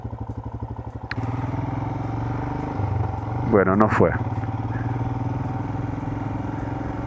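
A motorcycle engine idles and revs steadily close by on a rural road in Colombia, with a brief rising rev in the middle, under a short bit of talk.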